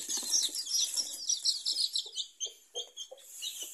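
Many native village chicks, under two weeks old, cheep rapidly and continuously in high, shrill peeps inside a brooding box, close by, with faint scuffling underneath.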